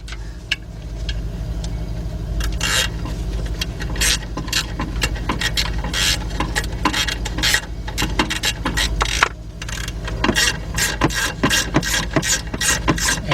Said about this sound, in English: And as I'm tightening it, it's moving the tension and it's putting tension on this belt.